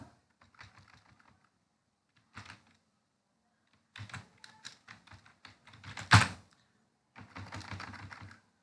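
Irregular bursts of typing on a computer keyboard, keys clicking in uneven clusters with pauses between them, close and moderately loud with no talk.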